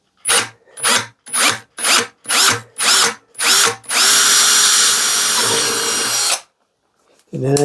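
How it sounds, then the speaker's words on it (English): A drill bores a starter hole into a plastic five-gallon bucket: seven short whirring pulses in quick rhythm, then a loud sustained run of about two and a half seconds that stops abruptly, followed by silence and a brief voice. "So I drill the hole with this one, the starter hole"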